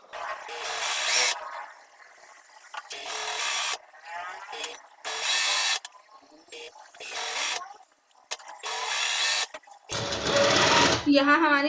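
Sewing machine stitching the waistband casing of a pant-style trouser, with bursts of rapid mechanical whirring separated by pauses, near and loud, while someone talks in between runs.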